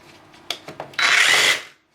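A DeWalt 20V MAX cordless reciprocating saw cutting small wood and limbs: a few short clicks and taps, then a loud buzzing burst of under a second that cuts off abruptly.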